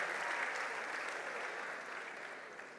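Graduation ceremony audience applauds for the SOS mothers, a dense, steady wash of clapping that fades slightly toward the end, heard alone at moderate distance.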